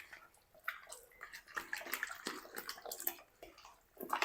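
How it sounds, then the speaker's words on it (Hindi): Raw chicken wings are washed in water in a kitchen, with splashing, sloshing and dripping as the pieces are rubbed and rinsed, close but fairly quiet. "2-3 पानी से अच्छी तरह आपने इसको धोना है"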